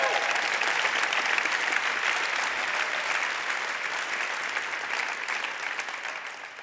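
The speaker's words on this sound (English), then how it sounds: "That deserves a round of applause." An audience at an awards ceremony breaks into a dense round of applause, clapping steadily and loudly before tapering slightly toward the end.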